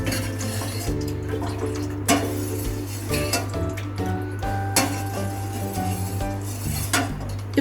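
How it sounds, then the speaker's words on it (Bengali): A ladle stirs milk for custard in a metal pot, giving steady scraping and repeated clinks against the sides over a low constant hum, with several sharper knocks. No voices are heard. "এবার আমরা হাতা দিয়ে নাড়তে থাকবো, তলায় বসে যাবার ভয়"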